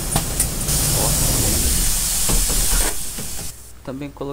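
Pneumatic door of an Apache Vip IV OF-1721 Bluetec 5 bus opening in the OMSI 2 simulator game, a loud rushing air hiss lasting about three seconds that cuts off abruptly before a voice speaks.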